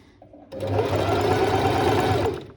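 A sewing machine stitches bias binding onto the armhole of a quilted waistcoat, starting after a brief quiet moment and running steadily and close for about two seconds.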